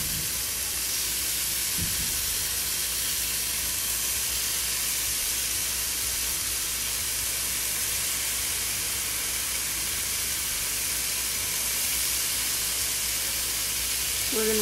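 Hot bacon frying in a pan of grease, cooking toward crisp, gives off a steady, dense sizzle and hiss that holds evenly throughout with no talk over it.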